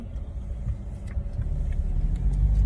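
A car idles and rumbles at low speed while being parked at a busy hospital lot, a steady close engine hum that grows slightly louder toward the end.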